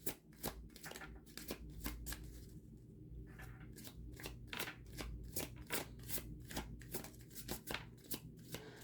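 Goddess Guidance oracle cards being shuffled close up, a steady run of crisp riffling slaps and flutters repeating rapidly throughout with no voices.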